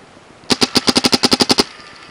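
A Dangerous Power G4 paintball gun fires a quick burst of about twelve sharp, evenly spaced shots over roughly a second, loud and close, with a faint hiss before and after.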